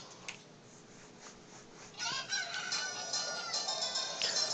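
A dawn bird crows in the Zelda Ocarina of Time video game, a loud call that breaks in about halfway through over quiet ambient sound and then carries on to the end.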